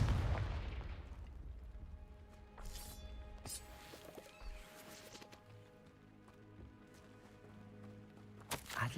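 Confringo fire spell explosions in the Hogwarts Legacy video game: several sharp, fairly faint bursts and pops over a low game ambience with tonal music.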